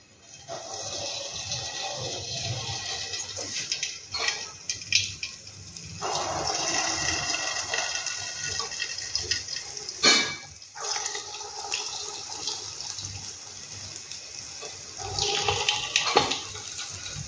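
Lentil fritters for roshbora, made from biulir (urad) dal, deep fry in hot oil with a steady bubbling sizzle that swells and eases throughout, without speech.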